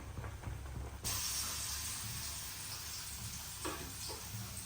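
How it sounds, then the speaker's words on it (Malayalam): Mathi fish (sardines) frying in hot oil in a pan, a loud continuous crackling sizzle that jumps up suddenly and holds steady, with no talk. "നല്ല മത്തമീൻ വറുക്കാൻ കേട്ടോ."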